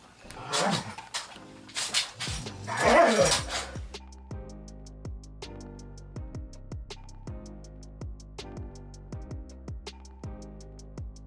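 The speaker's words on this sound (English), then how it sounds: "my dogs want to wrestle in the background." Several dogs wrestle playfully in the background, with a busy burst of yips, whimpers and scuffling at the start, then quieter intermittent whines and yelps.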